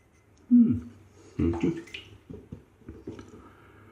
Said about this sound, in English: I give the blade a rinse